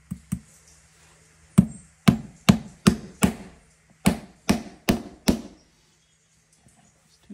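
An old cobbler's hammer drives Tricouni nails into a boot sole: about a dozen sharp, ringing metal strikes, two at first, then a steady run of evenly spaced blows after a pause, close and distinct with no talking.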